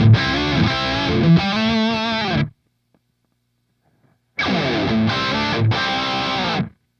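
An electric guitar played through a Revv Generator 100R amp with the bass control turned all the way up, giving loud, thick, distorted chords that ring out, break off into silence, then return with another strummed phrase.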